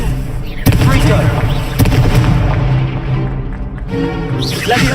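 Confringo fire spells exploding in Hogwarts Legacy, loud booming blasts with bright cracks near 0.7 and 1.8 seconds over dense rumbling game effects and music, with someone shouting spell names over the top.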